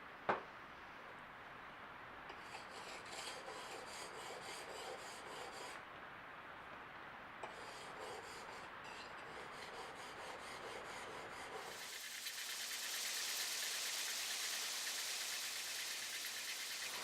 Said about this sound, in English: Now I'll switch to the fine side.